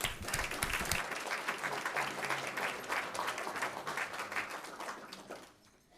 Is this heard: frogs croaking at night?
no